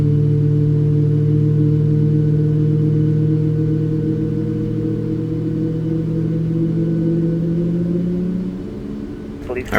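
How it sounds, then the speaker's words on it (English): Engine number 1 of a Boeing 737 MAX 8 jet, a Ryanair aircraft in a flight simulator, spools up during start: a steady droning hum with layered whining tones that holds evenly, then drops away near the end. "we have a good start on engine number 1"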